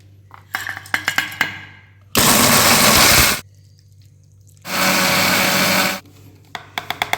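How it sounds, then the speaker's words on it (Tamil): A mixer grinder grinds coconut, cashew and roasted gram into paste in two loud, harsh bursts of roughly a second each, separated and surrounded by light clicks and taps of the jar. "தேங்காய், முந்திரி, பொட்டுக்கல்ல 3ஐயும் போட்டு பேஸ்ட்டாக அரைச்சிக்கலாம்."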